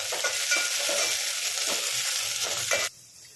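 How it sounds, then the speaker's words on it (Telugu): Onions and curry leaves fry in a hot pan for a Telangana-style boti curry, a steady loud sizzle with stirring scrapes throughout, cutting off abruptly near the end. "దీన్ని ఉల్లిపాయలు అయితే బాగా ఫ్రై చేసుకోండి. కొద్దిగా కరివేపాకు వేసుకున్నాము."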